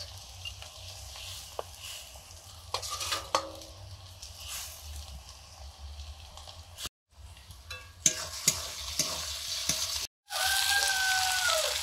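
Raw hilsa fish marinated with salt, turmeric and chilli powder frying in oil, a steady close sizzle broken by stirring clatter and two brief silent cuts, with a brighter hiss after the last gap.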